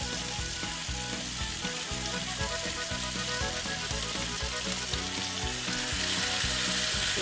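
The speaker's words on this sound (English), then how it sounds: "Brown turkey. And you want turkey to get nice and brown, real brown. So, turn it up real high. It sizzles like that." Ground turkey browns over high heat in a hot pan for poblano turkey tacos, giving a steady, dense sizzle and crackle with occasional stirring scrapes throughout.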